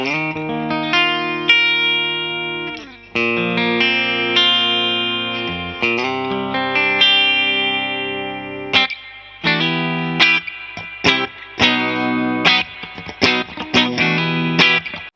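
Mexican-made Fender Telecaster Player HH electric guitar played through a clean, effects-coloured tone, a close, loud run of chords and single notes with some shimmer and reverb, no talking.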